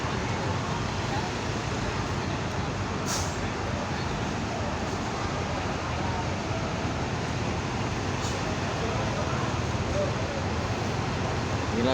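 Constant broadband roar of traffic and idling buses behind the departure shelter at Purabaya Bungurasih bus terminal, with a steady wash of engine and road noise and a couple of brief hisses, no voices.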